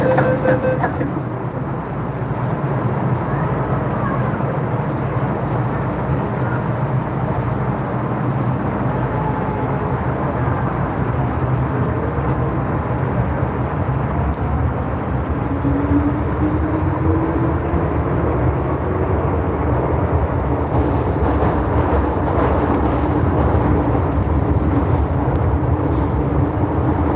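Loud, steady rumble of a Hong Kong MTR train in motion, with broadband roar and rolling rail noise persisting throughout, faint voices mixed beneath.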